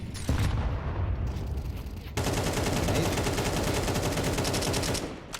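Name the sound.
gunfire in Counter-Strike match, from a video game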